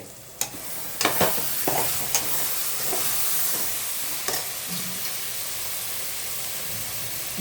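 Masala fries in oil for a vegetable bath dish, with a steady sizzle and hiss throughout and sharp stirring scrapes clustered in the first half, close and alone without talk.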